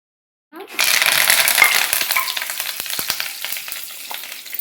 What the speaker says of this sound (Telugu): ఉల్లిపాయలు బాగా ఎర్రగా వేగినాయి